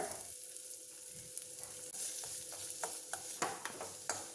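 Onions, green chillies and mustard seeds frying in hot oil give a steady close sizzle, broken by sharp spattering pops and the scrape of a stirring spoon, with no voices.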